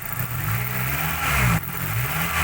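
A manual 2000 Suzuki Baleno sedan's engine revs up in a steady, mid-pitched roar, rising briefly before dropping back, close by with no talking.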